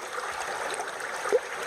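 A creek flows nearby in the woods, a soft continuous burble and trickle of moving water, fairly quiet and steady with one brief louder splash.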